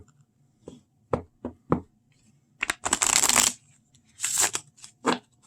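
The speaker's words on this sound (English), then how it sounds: "That was my first shuffle of this deck" A deck of playing cards is shuffled close by: a few sharp taps and squared edges, then two fast fluttering riffles with a final tap, with quiet gaps between.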